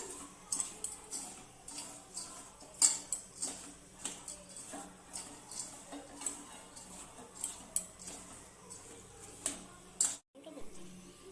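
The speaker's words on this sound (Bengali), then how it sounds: "আমি এবার বোঁদেগুলো সব ঢেলে দিলাম ভালো করে নেড়ে চেড়ে নিলাম" Boondi being stirred into cooled sugar syrup in a pot at home, with a run of soft, irregular clinks and scrapes of a spoon against the metal vessel. The stirring sounds are close but fairly quiet, and there are brief pauses between them.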